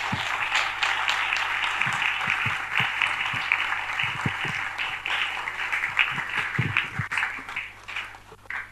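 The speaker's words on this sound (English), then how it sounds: "A round of applause for him again." Guests at the launch of a priest's book give sustained applause, a steady dense patter of many hands clapping, fairly loud and close, running through the whole stretch without voices.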